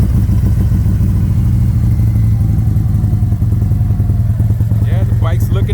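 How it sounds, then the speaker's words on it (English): A 2019 Harley-Davidson Road Glide V-twin rumbles after a cold start, a loud steady low idle with a slight clatter and a few blips of throttle near the end. "So right now we're gonna do a quick little cold start."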